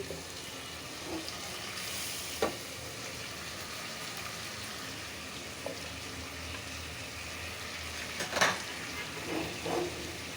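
A vegetable dish of kolai greens is fried and tempered in a pan with ginger, garlic, dried chillies and onion, giving a faint steady hiss broken by a few sharp utensil clinks against the pan.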